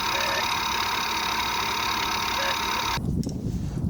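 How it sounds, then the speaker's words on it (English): The front motor of a Dashmoto Dash 3 carbon fiber mobility scooter spins with no load, a steady high electric whine that cuts off abruptly near the end, leaving duller rustling noise. "here's a view of the front motor spinning up under no load."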